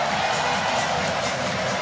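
A basketball arena crowd at the FIBA AfroBasket 2017 final between Nigeria and Tunisia roars without a break in a dense wash of cheering, with no clear gaps.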